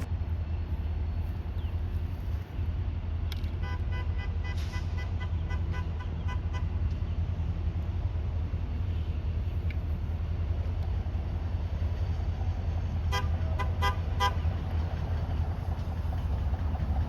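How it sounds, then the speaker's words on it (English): A CSX high rail vehicle sounds its horn in two clusters of short toots, a quick rapid set followed later by another burst, heard at moderate distance over steady low rumble and ambient noise. "CSX High Rail would give us a little horn show"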